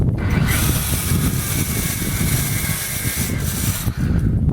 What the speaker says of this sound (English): I clean the wool pad first with a wool or with this cleaning spur